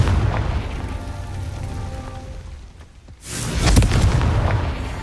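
A Confringo spell explodes in the video game Hogwarts Legacy: a low rumbling bed dips briefly, then a loud booming blast erupts and rolls on as a heavy, sustained rumble.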